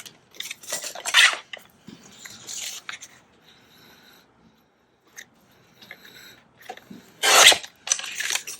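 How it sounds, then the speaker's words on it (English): Scissors cutting paper material for a botanical ephemera craft project, with a few close, crisp snips and rustles separated by quiet gaps. "So I'm going to need to cut this here,"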